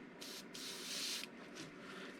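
A spray gun sprays thinned purple paint in steady bursts of close, loud hiss, each lasting up to about a second with brief gaps between them.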